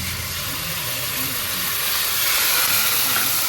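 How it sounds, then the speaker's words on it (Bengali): Tomato hits hot oil after fried onion and black cumin, producing a loud, dense hissing sizzle with spattering that swells slightly toward the end. "টমেটোটা দিয়ে দেবো"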